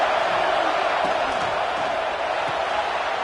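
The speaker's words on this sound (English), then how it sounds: "Listen to the crowd energy here in the early going." Football stadium crowd roaring during an early third-down-and-long play, a dense, steady wash of cheering and noise that fills the whole stretch at a constant loud level.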